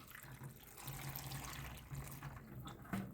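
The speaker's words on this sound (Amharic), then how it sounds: "ቂጣውን ከጨመርኩ በኋላ ትንሽ ውሃ አደርግበታለሁ" Water poured onto flatbread pieces while preparing Ethiopian tela, a traditional home-brewed drink; a steady, close splashing trickle runs for about three seconds, with a slight surge near the end and no talk.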